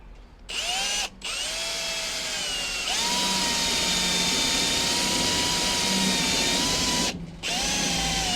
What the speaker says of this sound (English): drill straight through the middle. I have a step drill bit.